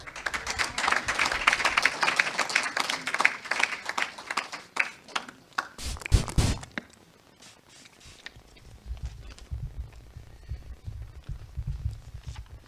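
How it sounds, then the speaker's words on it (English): Audience applause at the launch of a training programme on non-revenue water, a dense burst of many hands clapping for several seconds that thins out and stops, leaving a low room hum. "let's give him a round of applause"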